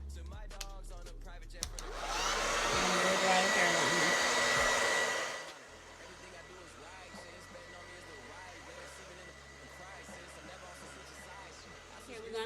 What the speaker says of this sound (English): Make sure that your blow dryer is put on cool.